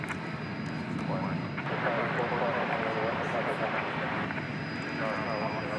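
A jet airliner departing Dallas Fort Worth Airport for London gives a broad, sustained engine roar at a distance, with faint voices underneath.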